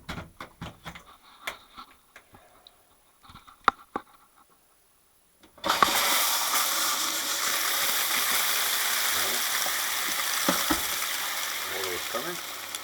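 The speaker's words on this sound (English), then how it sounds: "Water is coming." A repaired electric shower in a UK home, earlier leaking inside, sits quiet with a few small clicks and ticks. Then water bursts on abruptly and runs as a loud, steady gushing hiss to the end.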